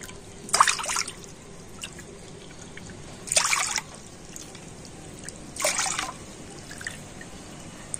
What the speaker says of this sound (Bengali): সেই বাটি মেপে আবারও আমি এখানে পাঁচ বাটি জল দিয়ে দেব।